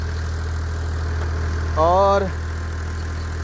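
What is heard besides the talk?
engine of an old tube well running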